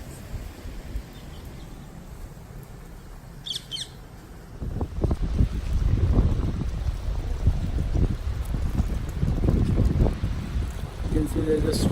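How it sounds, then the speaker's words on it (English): Strong wind during a sandstorm buffets the microphone. After a quieter start it builds into loud, rumbling gusts that continue to the end, with a few faint bird squawks early on. "It's getting windy and more sand,"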